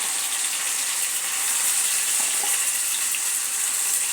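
Tomato paste with garlic and dried red chillies fries in a pan for spicy Tamil kara chutney, giving a steady, close hissing sizzle with a few small pops.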